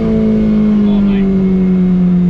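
Steady, loud engine drone with a strong low hum from a car fitted with coilovers pulling hard under acceleration, heard from inside the cabin as one continuous roar.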